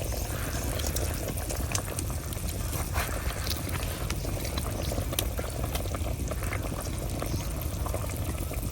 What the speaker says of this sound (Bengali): তরকারিতে বলক এসে গেছে, এখন আমি মাছগুলা দিয়ে দিতেছি।